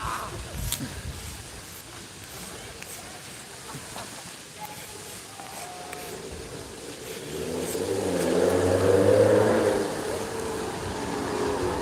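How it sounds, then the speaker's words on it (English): An American muscle car engine revs and roars past on a street in Weston-super-Mare, rising from background hum to a loud, throaty pass before fading slightly, with faint background noise around it. "American muscle car."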